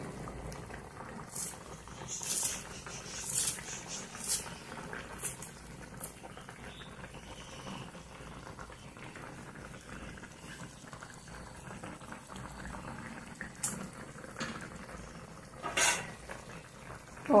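A pot of taro root curry simmers at medium heat, bubbling and popping in soft irregular patters with occasional louder bursts, close by and without talk.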